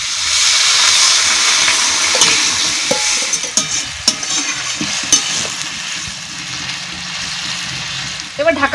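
Water poured into a pan of pumpkin and potato pieces sautéed in oil, a loud hissing sizzle that settles into steady bubbling with a few clinks of utensils near the end.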